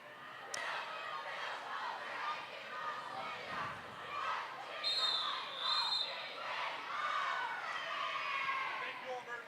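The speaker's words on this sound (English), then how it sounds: "That was one big cheer there." Crowd noise at a roller derby bout between Rose City and Treasure Valley in 2014, a steady roar of cheering and shouting that swells mid-clip, with an announcer's voice talking over it throughout.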